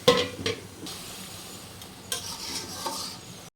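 Shrimp sauté in a pan with green chilies, stirred hard during a bhuna: loud, close scraping strokes of a spatula repeat over a bright sizzle, with no one speaking.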